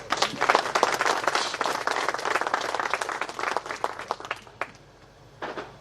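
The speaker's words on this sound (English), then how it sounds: "We really can give her another hand of applause." Audience applause at a handing-over ceremony for donated oryxes, a dense sustained round of clapping that runs loud for several seconds, then thins out and fades before a brief final burst.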